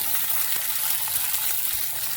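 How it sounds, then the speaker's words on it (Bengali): Potatoes and eggplant fry in oil in a kadai with a constant, fairly loud hiss and sizzle heard up close, unbroken and with no voices. "আরও কড়াইতে তেল দিয়ে এবার আলু আর বেগুনগুলো আমি ভালো করে ভেজে নেব"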